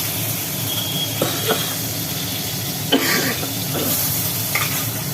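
Hilsa fish heads fry in hot oil for a mustard curry, with a steady close sizzle and a few soft clinks and stirring taps over it. No one speaks.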